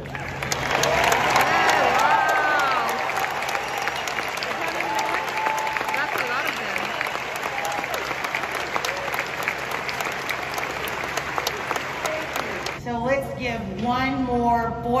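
A graduation crowd for the class of 2020 breaks into loud, sustained applause mixed with scattered cheers, the ovation continuing for many seconds before a voice takes over at the end.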